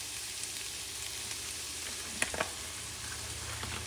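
Buckwheat, beef and garlic cook gently in vegetable oil over low heat, giving a soft, steady sizzle and crackle with a few faint stirring clicks, heard quietly with no talking.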